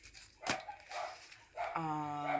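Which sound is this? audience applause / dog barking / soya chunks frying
dog barking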